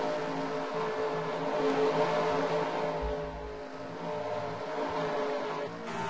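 NASCAR Xfinity Series stock cars racing at Michigan in the 2015 Great Clips 250, a continuous loud engine roar from the pack that swells and eases as the cars pass.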